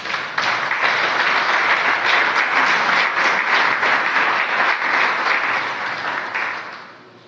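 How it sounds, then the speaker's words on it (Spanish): Church congregation applauding during a sermon, a full, steady burst of clapping that holds for several seconds and then tapers off. "Dale un aplauso al Señor"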